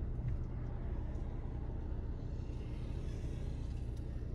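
A car with a 1400 cc engine drives through Quito traffic, its low, steady engine hum and road rumble heard faintly from inside the cabin with no talking.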